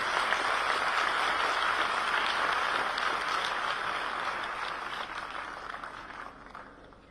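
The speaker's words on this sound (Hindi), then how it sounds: "आपकी जोरदार तालियों के मध्य में" An audience at a seminar on global challenges claps steadily, a broad, even patter of many hands that slowly fades toward the end, sounding somewhat distant.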